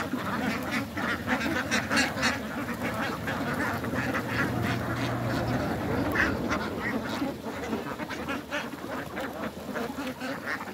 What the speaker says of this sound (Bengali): কিভাবে দেখেন হাঁসগুলো এই ধানগুলো খাচ্ছে